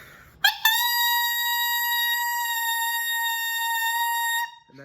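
A saxophone mouthpiece blown on its own gives a loud, shrill, steady squawk held for about four seconds, a single sustained note standing alone after a brief breathy start.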